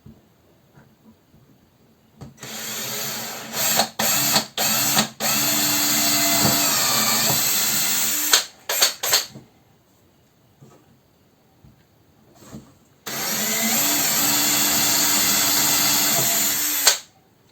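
A power drill bores holes in wood for a spice rack in a woodworking workshop, with a loud steady whine in long sustained runs broken by brief stops and restarts.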